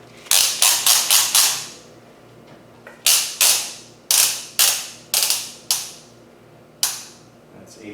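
Torque wrench clicking as bolts on a VW/Audi high pressure fuel pump are tightened to spec, sharp close ratcheting bursts in quick groups of several, then single spaced clicks with pauses between.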